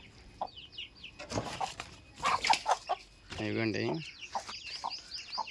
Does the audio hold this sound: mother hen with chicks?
yes